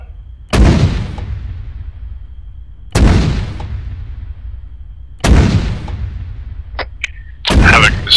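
Video game artillery fires high-explosive rounds at hangars: three loud, deep booms about two and a half seconds apart, each trailing off in a rumble, with faint radio chatter near the end.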